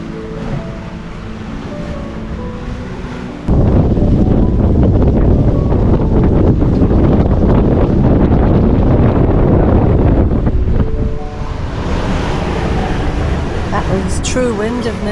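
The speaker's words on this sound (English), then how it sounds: "True wind of nearly 22 knots and apparent wind of nearly 25." Strong wind buffets the microphone while a sailing boat cruises in New Zealand waters with white caps, waves rushing and splashing against the hull in a loud continuous roar.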